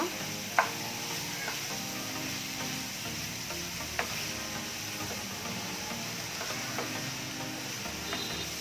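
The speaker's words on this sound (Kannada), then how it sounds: "ಇದಕ್ಕೆ ನಾನೀಗ 1 ಚಮಚದಷ್ಟು ಶುಂಠಿ ಬೆಳ್ಳುಳ್ಳಿ ಪೇಸ್ಟ್ ಹಾಕುತ್ತಾ ಇದ್ದೀನಿ. ಹಾಕಿ ಆದ್ಮೇಲೆ ಒಂದ್ಸಲ ಹಿಂಗೆ ತಿರ್ಸ್ಕೊಳ್ಳೋಣ." Ginger garlic paste sizzles steadily in hot oil in a pan, with a spoon stirring it and a few sharp scrapes and clicks against the pan, close and continuous.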